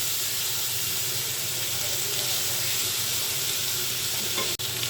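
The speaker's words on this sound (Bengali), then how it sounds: "পেঁয়াজ রসুনটা ভেজে নিচ্ছি ভালো করে।" Onion and garlic fry in mustard oil in a pan with a dense, continuous sizzle. The sound stays loud and steady throughout, with one brief dip near the end.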